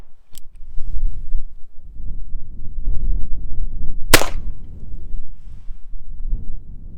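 A .22 long rifle fires a single sharp, close crack into an Ozark Trail thermos mug outdoors, preceded by a small click and surrounded by low wind rumble.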